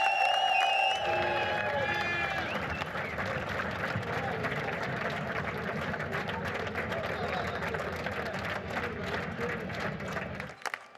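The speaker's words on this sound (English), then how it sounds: "And now listen to the cheer." Crowd cheers and applauds through the podium ceremony after a 2025 race at Misano, a sustained broad roar of distant spectators lasting about ten seconds, with commentators talking over it.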